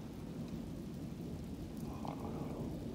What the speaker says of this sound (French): Il est terrible, cet orage.